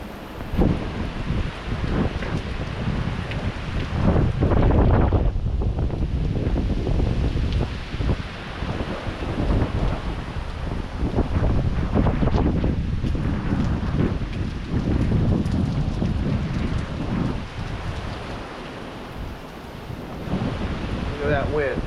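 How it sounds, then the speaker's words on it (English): Hurricane Milton's wind and sideways rain batter the outdoors in 2024, a loud, continuous roar with gusting surges and wind buffeting the microphone, while a person speaks now and then. "Look at that wind. Look at that rain going sideways."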